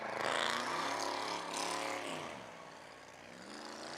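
A race car engine at a live motorsports event revs loudly and continuously, a broad roar that swells and eases slightly over a few seconds with no talk over it.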